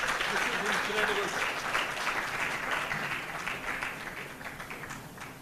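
An audience claps in sustained, fairly loud applause that tapers slightly toward the end, with faint background voices underneath.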